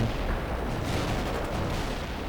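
A maximum-strength artillery barrage in World in Conflict gives a dense, continuous roar of overlapping explosions and booms, loud and unbroken, with no voices.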